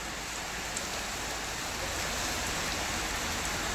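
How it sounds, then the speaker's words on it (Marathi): Heavy rain falls in Kerala as a steady, dense hiss of water pouring on surfaces, unbroken and fairly close, with no talking. "फुल्ल पाऊस चालू आहे केरळमध्ये."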